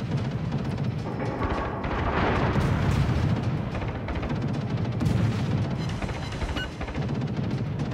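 Dense, continuous booming of naval gunfire in World of Warships, on the Archipelago map, heavy blasts rumbling over one another without pause.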